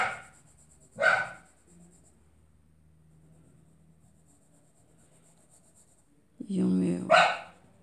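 Dogs barking indoors in two short loud bursts, one near the start and another near the end, with quiet room noise between them.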